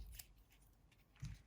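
Scissors snip through elastic for a journal fastening, with one quiet cut near the start and a slightly firmer snip at the end, close and faint with no talk.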